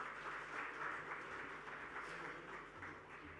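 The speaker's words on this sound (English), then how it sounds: "A round of applause, ladies and gentlemen, for our panelists, please." Applause for panelists on stage at a tech awards event, a faint, distant wash of audience clapping continuing steadily for a few seconds.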